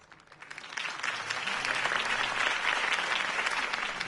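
Crowd applause breaking out after a mayoral campaign speech in the Batman Telltale video game, starting modestly and swelling into a steady, dense wash of clapping from a large audience.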